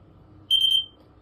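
A single electronic buzzer tone from a gas leak detection system sounds for about half a second, high-pitched and steady, then stops, over a quiet background hum.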